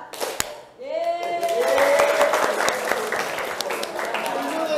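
A classroom clapping game of counted claps in ones, twos and threes, a burst of group clapping following a spoken count, with voices and sharp individual claps over the crowd.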